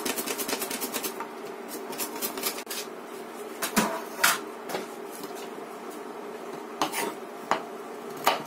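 A knife chops carrot on a cutting board for a quick vegetable soup, giving a close run of sharp, quick taps with short pauses between bursts and no voices over it.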